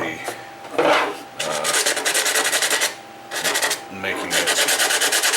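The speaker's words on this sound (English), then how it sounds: "Yeah, I know we're not using a sanding block" Rhythmic hand sanding of JB Weld on a TRS-80 Model II keyboard part, without a sanding block: repeated rasping strokes in short bursts, close and fairly loud, with brief pauses between sets.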